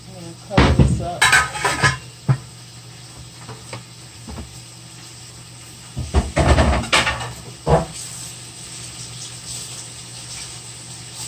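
A lid clanks onto a metal cooking pot of sausages for a seafood boil, with a few sharp metallic knocks and rattles in two bursts over a steady kitchen hum.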